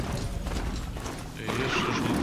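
A horse whinnies loudly while hooves clop steadily underneath, in a clean, game-like sound with no talking.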